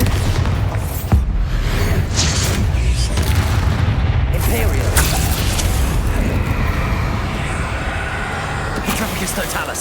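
Bombarda explosion spell in the Hogwarts Legacy video game: continuous loud booming and rumbling blasts with sharp cracks early on, layered over dense battle noise, with a voice talking over it.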